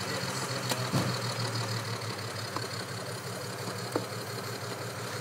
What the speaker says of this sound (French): C'est les nouveaux moteurs diesel.